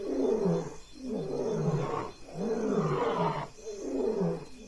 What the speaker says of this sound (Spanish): los machos patrullan el territorio. Sus rugidos viajan a través de la noche